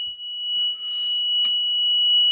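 A battery management system's low-voltage alarm buzzer drones in a steady high-pitched electronic tone, with faint clicks and soft rustles in the background.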